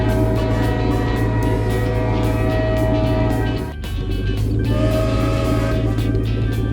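A glowing magic train from a Peppa Pig cartoon rolls along in a steady, continuous rumble with a sustained hum and whistle-like tones, briefly dipping midway before carrying on at full loudness.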